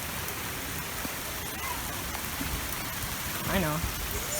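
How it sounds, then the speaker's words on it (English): Heavy rain pours during a thunderstorm at Lake Elsinore, a steady dense hiss of drops striking surfaces throughout, with brief voices rising near the end. "It is raining so fucking hard."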